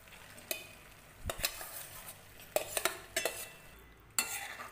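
Cooked whole masoor lentils go into a sautéed masala and are stirred in a pan: quiet sizzling with several distinct scrapes and clinks of a spoon against metal, spaced irregularly.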